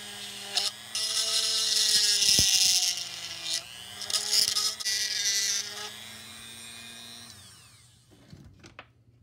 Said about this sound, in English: I'm going to carve that out a little bit with a drill